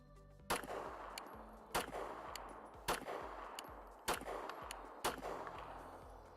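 A Canik TP9SFx pistol fires five sharp shots during a spring trial with Glock red loads, each one loud and close, spaced about a second apart with short ringing tails.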